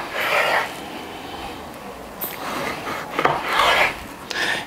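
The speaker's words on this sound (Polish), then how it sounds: "więc żeberka sobie poporcjuje" Close, repeated cutting strokes through pork ribs, meat and bone, on a wooden board, rasping and scraping in uneven bursts.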